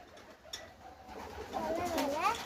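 Pigeons coo near a dovecote, a soft warbling call rising and falling in the second half of a short outdoor stretch with faint background noise.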